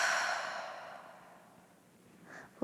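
A long, soft exhaled breath through the mouth during a yoga breathing exercise, fading gradually over a couple of seconds, followed by a faint short sniff near the end.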